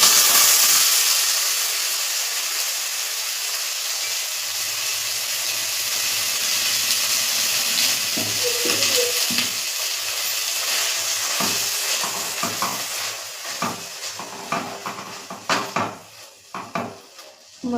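Corn kernels fry and sizzle in melted ghee in a pan for a Dhaba-style makai nu shaak, with a steady hiss, scattered spoon-and-pan clatter and stirring, loud and close, and no talking.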